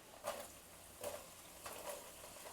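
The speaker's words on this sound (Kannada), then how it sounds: "ಚೆನ್ನಾಗಿ ಈರುಳ್ಳಿನ ಎಣ್ಣೆಗೆ ಫ್ರೈ ಮಾಡ್ಕೊಳ್ಳೋಣ" Onions frying in oil in a pan over a flame, a faint soft sizzle with three gentle scraping stirs spaced about a second apart, quiet and close.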